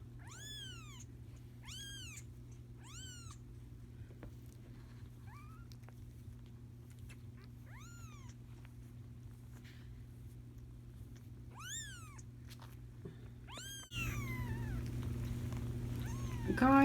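Repeated meows from five young bottle-fed kittens in short clusters over a steady background hum, with a louder burst of rustling and noise near the end.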